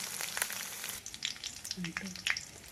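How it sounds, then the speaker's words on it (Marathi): Garlic and green chilli fry in a pan with a steady close sizzle, overlaid by scattered crackling pops and a few light stirring scrapes. "लसूण मिरची आणि लसूण चांगलं भाजून घ्यायचं आहे"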